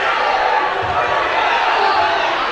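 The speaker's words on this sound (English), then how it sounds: "The Frankton crowd's going nuts" The Frankton crowd roars loudly at an IHSAA high school wrestling match between Frankton and Noblesville, a dense, sustained cheering that fills the gym without a break.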